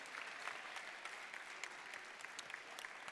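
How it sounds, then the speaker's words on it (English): Audience at a 2024 FMA District robotics event in Montgomery applauds the Engineering Inspiration Award winners, a sustained patter of clapping from a large crowd, fairly distant and even. "One more big round of applause for your District Engineering Inspiration Award winners"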